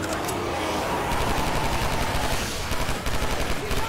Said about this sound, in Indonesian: Gua lagi nembakin